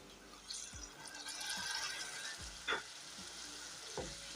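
Grated tomatoes go into a hot pan for spicy tindora shaak, sizzling in a soft steady hiss with a few low thuds and clinks, fairly faint and without talk.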